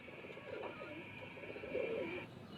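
Champion pigeons coo from a rooftop loft in Sheikhupura, soft repeated throaty coos with a steady hum in the background.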